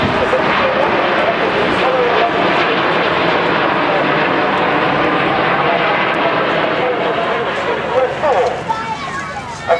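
Red Arrows jet aircraft flying the Apollo roll formation at an air show, a loud continuous roar of jet engines filling the air, with a commentator talking over it.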